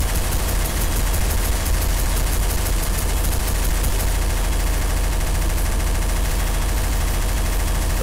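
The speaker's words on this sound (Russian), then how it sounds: "Я достаю очень тяжелый пулемет." Heavy machine gun fire in Garry's Mod, a dense, unbroken roar of rapid shots filling the whole stretch at a loud, steady level.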